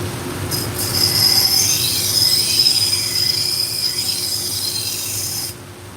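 A sharpening grinder works a Sheffield knife blade, a steady high metallic hiss and whine running close and continuous for several seconds before cutting off near the end.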